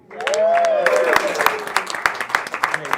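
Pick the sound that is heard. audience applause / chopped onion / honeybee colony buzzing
audience applause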